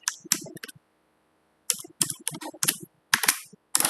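Computer keyboard being typed on at close range, two short flurries of crisp key clicks separated by a pause of about a second, no talk.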